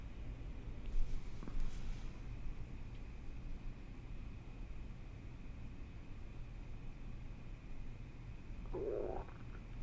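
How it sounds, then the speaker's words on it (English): A short, low gurgling rumble like a stomach growl comes near the end, faint over a quiet background hum. "Oof, that was my stomach."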